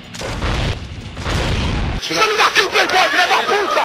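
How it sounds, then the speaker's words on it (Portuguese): Rocket launcher explosions in a Fallout game: deep booming blasts and bursting pops roll through the second half, following a muffled rumbling stretch, with a voice-like layer mixed into the game sound. "Tiro uma Rocket Launcher da bunda e começa a estourar ela."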